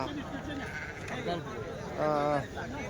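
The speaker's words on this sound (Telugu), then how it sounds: "ఎంత పెద్ద ఇవి ఎర్ర పొట్టేళ్ళు?" Red rams at a weekly livestock market give one clear, wavering bleat over steady background chatter from people nearby.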